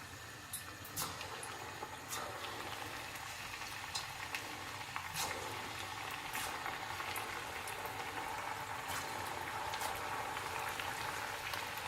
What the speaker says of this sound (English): So what I'm doing is just put a bunch in, wait until they're light brown, and then get them out onto the kitchen towel.